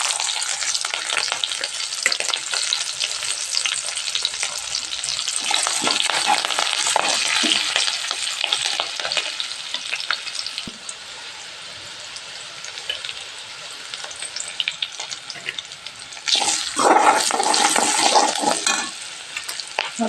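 Chopped hot green chillies sizzle and crackle in a pan of hot oil, a dense, close frying hiss that eases off midway and surges again near the end.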